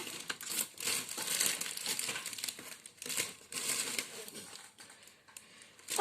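Foil wrapping on a chocolate Easter egg crinkles and rustles as it is opened, close and fairly loud, in irregular bursts of crackling with brief pauses between handfuls.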